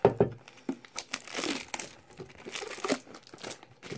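Plastic packaging on a Pokémon card tin, the Sceptile EX tin, being ripped and torn open with a blade, giving bursts of close crinkling and tearing that come and go over several seconds with no talk.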